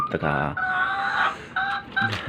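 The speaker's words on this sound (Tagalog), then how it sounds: "Sana naman maingay na naman yung manok ko." A backyard chicken clucks close by, a few loud, drawn-out calls with short pauses between them and no talk over the sound.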